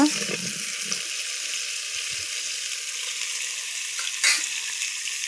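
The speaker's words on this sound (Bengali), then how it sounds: "এই যে তেলে আলুটা ভাজছি খাসির মাংসতে দেব" Continuous oil sizzle of potatoes frying for mutton curry, close and steady, with a few soft clanks and stirring scrapes near the start and one brief bright hiss later.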